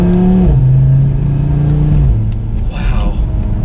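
An Audi TT RS engine drops pitch on a downshift and then pulls hard through an S curve, a loud droning rev that steps down twice with rumbling road noise underneath.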